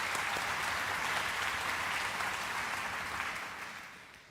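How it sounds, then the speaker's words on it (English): Warm, even applause from a concert audience after a pianist's virtuosic playing in a Melbourne Symphony Orchestra performance of Clara Schumann's music, sustained and slightly distant, tapering off toward the end. "I think we need to give Aura some more applause for that virtuosity."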